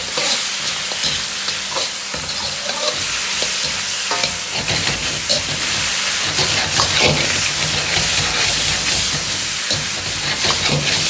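Spices and a prepared sauce sizzling and crackling in a hot wok, poured in from the side and stirred while braised pig trotters cook, a steady loud fry with scraping stir strokes throughout.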